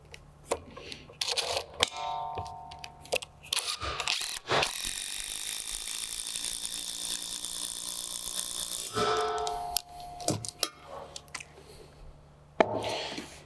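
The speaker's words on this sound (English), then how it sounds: "You can go ahead and use your fasteners to attach the mount down." Screws being driven through a pergola post mount into a deck for an Elements freestanding pergola: a sustained power-driver whir of about four seconds, with shorter bursts and ratcheting clicks around it, fairly close.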